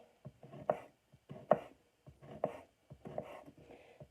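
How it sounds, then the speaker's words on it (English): A knife cuts through a small stick of pepperoni on a cutting board in a run of distinct chops, five or six crisp taps in an uneven rhythm, close and fairly quiet. "I have this cute little stick of pepperoni left over from my father's birthday, so I'm just going to cut it into little slices"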